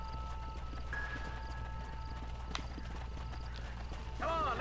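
A horse gallops in the western video game Red Dead Redemption, hooves clip-clopping steadily under a music bed, with a neigh near the end.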